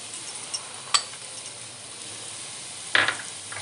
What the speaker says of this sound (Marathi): कॉर्नही आपल्याला कांद्यामध्ये मिक्स करून घ्यायचे आहेत